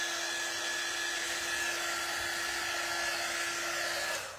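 A hair dryer blows steadily to dry a wet paste layer, a close, continuous whooshing whir with a constant tone lasting about four seconds before cutting off, with no voices.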